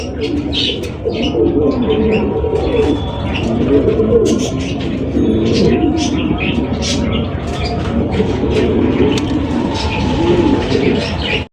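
Pigeons coo continuously at a crowded pigeon market, their low throaty calls layered over steady background hubbub, with people talking throughout.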